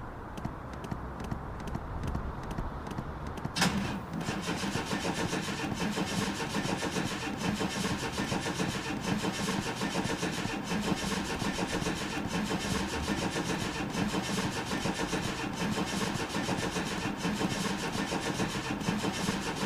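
Chevy Astro van engine cranking repeatedly with a rapid, steady rhythmic churn that runs on for many seconds, close and even, after a quieter stretch at the start; the van has a history of stalling.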